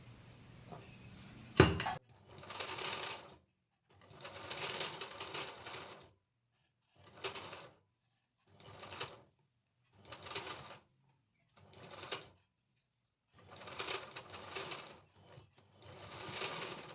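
A domestic sewing machine stitches puff sleeve pleats in a series of separate short whirring runs, each a second or two long, separated by pauses, with a sharp knock near the start; the machine is close and moderately loud.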